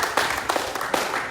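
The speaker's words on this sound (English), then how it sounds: "Give God a round of applause." Audience applause at an outdoor evening Bible study, a brief burst of scattered hand claps from a small crowd, fairly close and steady for a moment.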